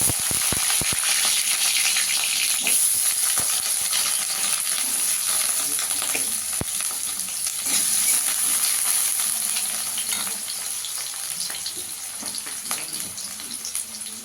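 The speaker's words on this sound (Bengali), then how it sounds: "এবার আলুটাকে আগে একটু ভেজে নেবো লাল করে।" Potatoes frying in three spoons of hot oil, a steady loud sizzle filling the whole stretch with scattered clicks and scrapes of stirring; no one talks.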